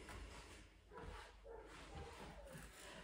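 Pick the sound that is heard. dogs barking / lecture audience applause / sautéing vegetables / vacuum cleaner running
dogs barking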